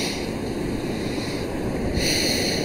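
Sea waves wash against the shore, a loud, continuous rushing roar with a steady hiss of surf and a slight swell near the end, no voices heard.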